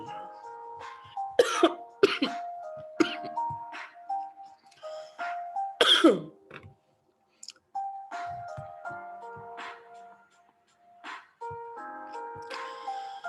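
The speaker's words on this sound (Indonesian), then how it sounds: "maaf agak sedikit batuk" A few sharp, short coughs burst out during an online teaching session, with a soft tonal melody and quiet gaps running between them.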